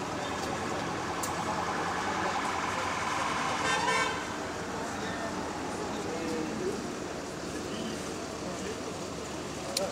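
A Go-Ahead London TfL MMC bus idles at high revs at Brixton, a steady, dense engine drone that holds for the whole stretch amid street noise.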